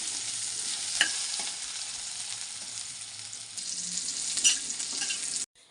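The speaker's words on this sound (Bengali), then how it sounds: "আলুটা আমি এখন ভেজে নিচ্ছি, আর আলুর মধ্যে একটু কাঁচা লঙ্কাও দিয়ে দিয়েছি।" Potato pieces with green chilli frying in a pan, a steady close sizzle broken by a few stirring scrapes and clinks, with no talk.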